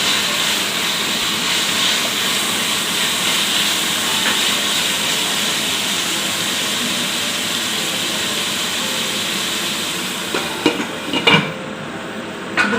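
Chopped tomatoes sautéing in a pan for killi sambar, a steady close sizzle running throughout with a few clinks and stirring knocks near the end.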